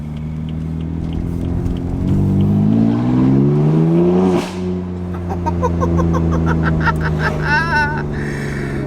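A BMW M3 F81 Touring with an aftermarket exhaust blips its throttle while cruising in town, engine pitch sweeping up then dropping sharply, followed by crackling pops and burbles, heard close and loud.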